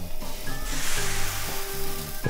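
Pancake batter sizzles in a hot frying pan in a home kitchen, a close, continuous crackling hiss with faint tonal whines and small clinks from utensils.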